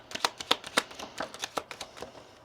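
Kipper fortune-telling cards are laid out one by one for a reading, making a quick series of soft, crisp snaps and slides close to the listener.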